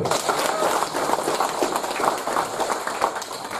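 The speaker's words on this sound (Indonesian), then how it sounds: "Ya tepuk tangan dulu lah" Listeners at an address by a police chief in Ciputat Timur applaud, a thick, continuous clatter of many hands that rises and dips slightly over a few seconds.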